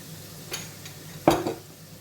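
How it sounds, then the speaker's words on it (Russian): Quiet sizzling of flour frying in butter in a pan, with a couple of scraping stirs and a light clink of a utensil against cookware, no voices. "И теперь муку надо тщательно перемешать и пережарить."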